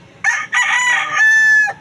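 A pet rooster crows close and loud in one cock-a-doodle-doo, with a short burst, a brief break, then a long sustained tonal call that ends abruptly.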